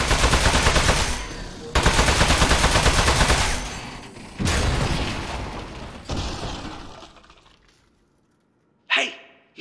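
Heavy gunfire from the video game Aperture Desk Job rattles out in loud, continuous bursts that stop and restart several times before fading to near silence. One sharp final burst follows the quiet.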